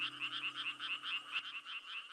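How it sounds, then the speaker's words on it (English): Tiny cartoon baby frogs croak in a quick, even chirping rhythm, a close, bright repeated trill that runs continuously with no talk. "There they are, the little froggies, safe and sound."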